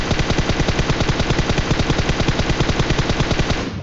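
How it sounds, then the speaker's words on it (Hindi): Sustained automatic rifle fire in the PUBG Mobile battle royale game, a rapid, evenly spaced burst of shots running continuously for nearly four seconds, loud and close with no talking. "तो मैंने फिर फायर कर ही दिया।"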